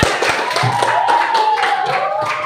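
Students in a classroom clap for a student group, a quick scatter of nearby claps mixed with a raised voice.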